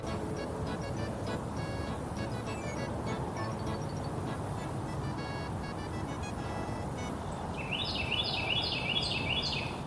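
A bird calls in repeated chirping phrases over steady outdoor noise near water during perch fishing, the call rising in a quick series of notes toward the end.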